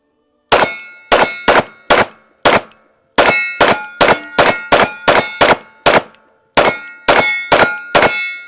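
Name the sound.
pistol shots from an FN 509T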